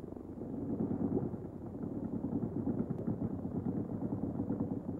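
A hill climb motorcycle's engine idling and rumbling at a steady low pitch before its run, a continuous, fairly distant, muffled drone with no talk.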